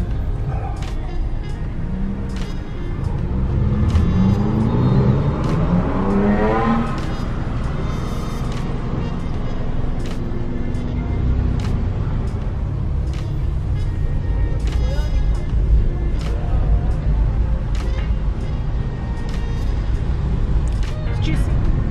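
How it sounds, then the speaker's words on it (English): Road traffic in Cyprus, between Larnaca and Strovolos, heard from inside a moving car as a constant low engine and tyre rumble, with a passing vehicle's rising whine and voices talking over it. "Usual traffic."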